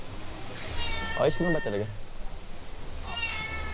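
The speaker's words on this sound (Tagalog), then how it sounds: "May pusa." A cat meows indoors: one drawn-out, wavering meow, then a shorter meow a moment later. Both are close and clear, with people talking quietly nearby.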